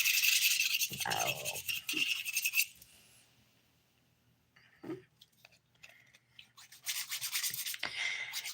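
Fingernail filing with a nail file during a dip powder manicure, heard as bursts of dry rasping strokes near and fairly loud, with quieter pauses between and brief handling noises in the middle.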